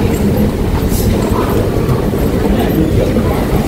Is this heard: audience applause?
no